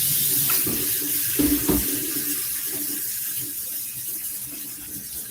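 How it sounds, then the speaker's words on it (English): Cold water runs steadily from a tap into a pot for cooking chicken in a kitchen cooking class, a continuous splashing rush lasting several seconds with no voices. "So I will ask Nastya to put cold water."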